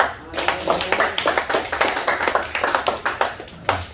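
A church congregation claps hands together in a quick, loud, steady rhythm during a worship service, with a voice heard briefly among the claps.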